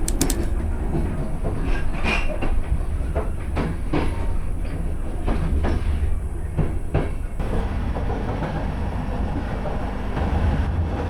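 Train pulling out of Bratislava bound for Košice, a loud, continuous rumble with rhythmic clickety-clack of wheels over rail joints and occasional metallic clanks.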